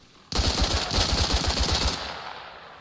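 Rapid automatic AK rifle fire in the military shooter Arma Reforger during a competitive 10 vs 10 match, a loud sustained burst of about a dozen closely spaced shots lasting well over a second, then a fading echo.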